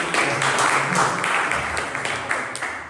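Audience applause at a Toastmasters club meeting, a crowd clapping loudly and steadily for about three seconds and gradually thinning toward the end.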